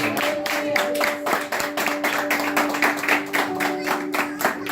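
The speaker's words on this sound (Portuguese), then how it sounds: "Dá uma salva de palmas para o Senhor" Rhythmic group clapping from a church congregation in worship, regular unison beats over a sustained held tone, steady and fairly loud throughout.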